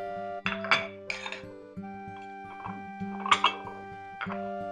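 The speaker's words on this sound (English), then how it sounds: "let's scoop them out onto the plates one by one" Pieces of traditional Irish soda bread are scooped onto plates, with repeated clinks and scrapes of a utensil against dishes over a steady background hum, close and moderately loud.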